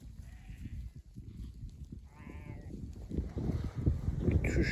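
Sheep and lambs bleat in a mountain pasture, a few short, wavering calls close by over low rustling and movement, with murmured talk faint in the background.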